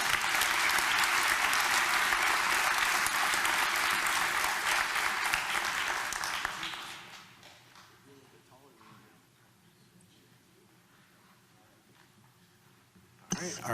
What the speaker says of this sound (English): everyone can give them a round of applause